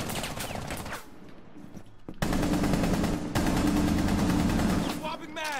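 A gun in a video game fires in dense, rapid automatic bursts, loud and close, mixed with game sounds and a voice talking over parts of it.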